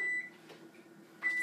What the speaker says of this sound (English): oops, timer, hold on.